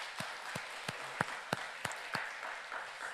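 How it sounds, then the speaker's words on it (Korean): A church congregation at a deacons' ordination dedication service claps for the newly ordained deacons, sharp distinct claps standing out over a steady wash of applause, moderately close and even throughout. "우리 안수 집사에게 우리 격려의 박수 한번 해보도록 하겠습니다"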